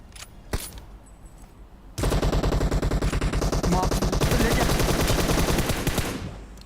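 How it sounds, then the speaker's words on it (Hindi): Automatic gunfire in the BGMI battle royale game, a sudden loud rapid burst of shots starting after a quieter stretch and continuing for several seconds, preceded by a single sharp shot. "मेरे पीछे से कोई दूसरी गन चिपका देता है, ऑटो पे चलने वाली गन"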